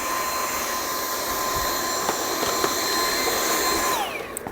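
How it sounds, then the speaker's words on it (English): A vacuum cleaner runs steadily while cleaning debris from an opened Blueair air purifier during a filter change, a loud constant whine with a few faint clicks, then winding down at the end. "I usually have a vacuum with me at all times just to kind of vacuum other debris and stuff"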